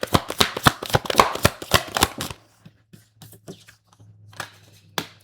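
A tarot card deck is shuffled by hand in a quick run of crisp, close riffling snaps, then a quieter stretch with a few scattered card taps and a low hum.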